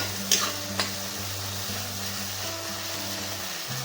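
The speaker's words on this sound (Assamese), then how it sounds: "মছলাখিনি ভাজ খাব লাগিব।" Spice masala with chillies frying in a pan for a chicken curry with banana stem, a steady close sizzle with a couple of sharp stirring clinks near the start.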